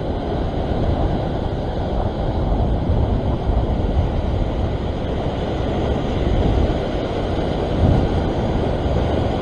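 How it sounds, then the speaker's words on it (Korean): Swell waves at a rocky sea shore in winter make a constant heavy roar of surging water, loud and unbroken throughout, with no voices. "너울성 파도"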